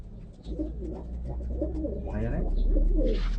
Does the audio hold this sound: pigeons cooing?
yes